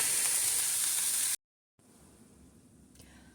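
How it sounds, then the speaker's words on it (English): Mushrooms and onions cooking in a pan on the stove for lasagna give a loud, bright, steady sizzle that cuts off abruptly after about a second, followed by a faint low hiss. "while our mushrooms and onions are cooking on the stove"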